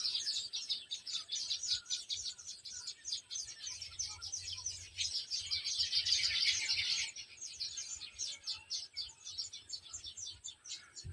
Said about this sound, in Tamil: ஒரு குருவி இருக்கு பாருங்க.